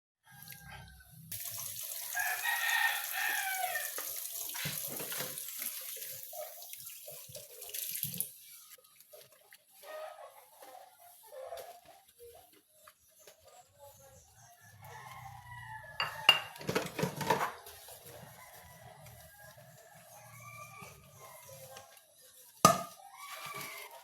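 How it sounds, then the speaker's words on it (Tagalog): Water runs from a tap with splashing and clinking of dishes being washed, intermittent knocks, and a rooster crowing in the background. "Hugasan na natin ng pinggan natin."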